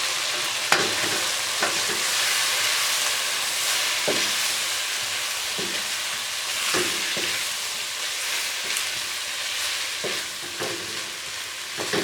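Coarse-cut potatoes fry with spices in a pan for aloo bharta, a steady hiss and sizzle with repeated scraping stirs throughout, close and fairly loud, no voices.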